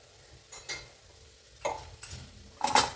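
Spiced aloo mutter tomato curry with salt, coriander powder and tomato puree being mixed in a pan: four separate scraping stirs with soft, wet clatter between quiet pauses, faint sizzle underneath.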